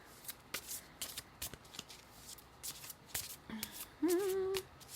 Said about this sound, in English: So we're going to shuffle them like this.